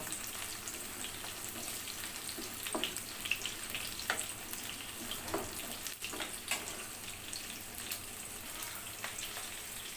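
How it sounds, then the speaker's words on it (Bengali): Onion and garlic frying in mustard oil while being stirred, producing a continuous moderate sizzle with intermittent clicks and scrapes of a spoon against the pan. "আমি আর একটু সরিষার তেল অ্যাড করলাম এখন এটাকে নেড়ে চেড়ে হালকা ব্রাউন করে নিব"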